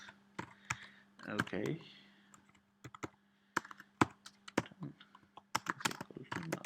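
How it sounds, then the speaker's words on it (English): Typing on a computer keyboard while writing C code, sharp irregular key clicks in short runs, close and fairly quiet, with a brief spoken word partway through. "Hang on for a second, let me type this."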